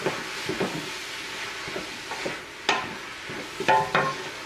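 Chili meat searing in a pan, a soft steady sizzle broken by intermittent scraping and stirring clatters, with a few sharper utensil knocks toward the end, heard close and alone.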